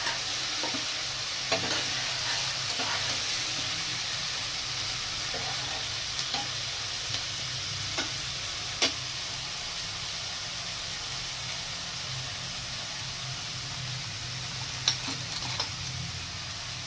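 Ginger-garlic masala fries in a pan for a duck egg curry, giving a continuous loud hissing sizzle throughout with occasional faint scrapes and taps of a spoon, and no voices.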